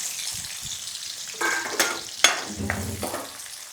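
Garlic, green chili and shallots fry in hot oil with mustard seeds, a steady close sizzle broken by a few sharp crackles and stirring scrapes, no talking.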